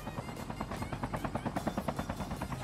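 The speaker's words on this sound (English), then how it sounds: "we got a chopper on our six" A helicopter in the Call of Duty Mobile battle royale, its rotor thumping in a steady fast pulse, close and constant with no talk over it.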